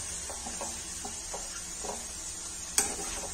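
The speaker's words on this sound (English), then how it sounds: "just fry in the oil." Onion pakodi made with gram flour batter frying in hot oil, giving a steady bright sizzle throughout with soft scattered crackles and one sharp clink near the end.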